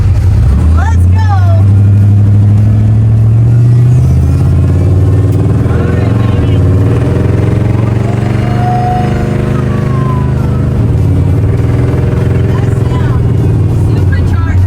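Supercharged 1955 Ford Crown Victoria engine accelerating hard on the road, a loud, steady low roar that climbs in pitch and holds throughout.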